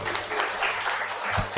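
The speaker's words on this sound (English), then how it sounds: "Give a big round of applause for this dignitary." Audience applause at a family physicians' conference, a steady patter of many hands clapping, ending with a sudden louder thump or burst close by.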